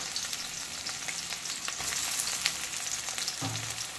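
Sliced onion crackles and sizzles in hot oil in a wok, a continuous close hiss with small pops and a stir or scrape near the end. No one speaks.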